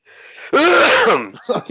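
A single loud, sharp sneeze with a short breathy intake before it, followed by a brief voice.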